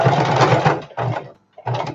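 A sewing machine stitches fabric for a storage bin, running in three bursts: a long steady whir, a shorter run, then a brief pause before it starts again. The motor is loud and close, with no talking.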